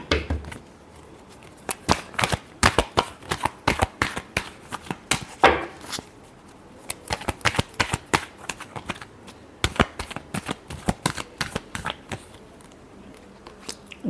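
Tarot cards are shuffled by hand in a run of quick, crisp riffling slaps and flutters, irregular bursts close up over a quiet room, continuing almost without pause.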